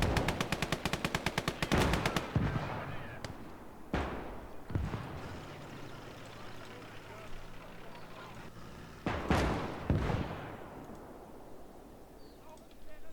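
Flak gun in the video game Conquest, firing rapid bursts of loud, sharp shots at the start, followed by scattered heavy blasts and a later burst, with speech underneath.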